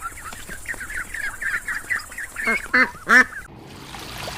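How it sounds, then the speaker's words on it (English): A black duck calls with a run of quick, nasal honking quacks, several in a row that grow louder and sharper toward the end before falling quiet. "Black color duck."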